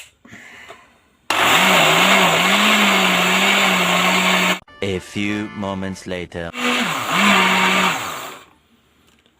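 Kitchen blender running loud and close, blending soaked lentils with water, salt, paprika and cumin, with a steady motor whine that pulses and stutters midway, then surges again before stopping; a voice speaks briefly at the start.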